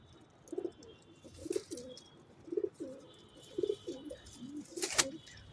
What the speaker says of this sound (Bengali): অনেকদিন পরে কবুতরগুলি ছাড়ছি।